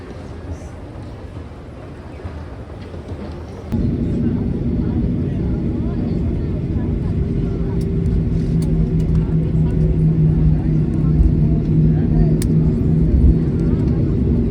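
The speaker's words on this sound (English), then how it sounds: "Just touched down in Belize and plane is taxiing to the gate" A passenger airplane taxis to the gate after landing in Belize, its steady engine drone stepping up sharply partway through and then holding a loud, even hum with a faint tonal whine.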